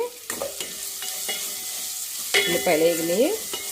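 Onions frying in a pan for a masala stuffed brinjal curry, with scraping stirs and a steady sizzle, plus a brief tonal squeak near the end.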